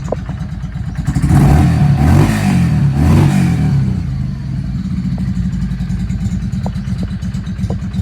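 A Yamaha V Star 650 motorcycle engine revs up twice, loud and close, then settles back to a steady rumbling idle off choke with ticking mechanical clatter.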